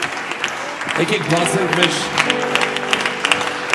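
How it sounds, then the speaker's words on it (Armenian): A church congregation at a Sunday service applauds in a dense, continuous patter of clapping while someone speaks loudly over it. "Եկեք ավելի բարձր ծափարեք Տիրոջը"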